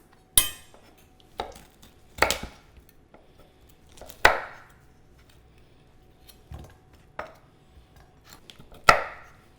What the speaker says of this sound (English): you're actually supposed to cut these chicken backbones down into smaller pieces to give you more surface area